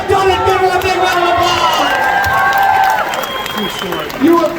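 An audience at a circus sideshow applauds and cheers after a sword swallowing act at the Oddities and Curiosities Expo in Minneapolis. Crowd clapping and hubbub run throughout beneath sustained tonal sounds.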